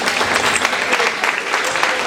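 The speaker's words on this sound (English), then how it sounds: "Another round of applause for our panelists." A room full of people applauds panelists at a community forum on tax cuts, dense continuous clapping that stays loud and even from start to finish.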